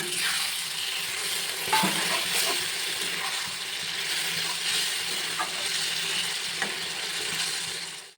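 Chicken skin fries in a pan with a little water added, giving a steady loud sizzle and bubbling throughout, with occasional clinks and scrapes of stirring.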